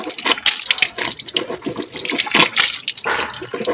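Water running steadily from a tap for washing the face, a loud continuous splash and gush close by with no pauses.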